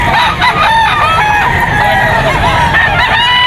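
A gamefowl bullstag crows loudly and close at the Bocaue pet market, with long strained calls that overlap other roosters crowing and clucking around it in a dense, continuous chorus.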